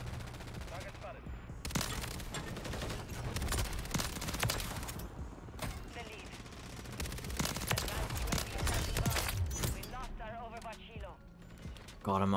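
SMG gunfire in the Modern Warfare 3 multiplayer game, rapid automatic bursts crackling repeatedly across the clip amid other battle noise, with a voice talking over it.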